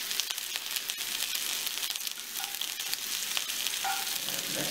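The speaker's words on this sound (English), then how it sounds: "Okay, so the pork has been searing for just a few minutes here." Pork tenderloin searing in a hot pan gives a steady, close sizzle and crackle of frying fat that holds evenly throughout, with no talking over it.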